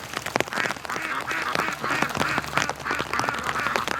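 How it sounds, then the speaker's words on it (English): Ducks in a backyard flock quack repeatedly in rapid, overlapping bursts during rain, close and fairly loud, with steady wet background noise underneath. "There's not, well, Mo's the only duck in the yard right now."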